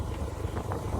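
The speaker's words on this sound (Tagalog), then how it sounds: "Oh, windy." Wind gusts buffet the microphone in a short, low, rumbling rush of steady noise, with no voices.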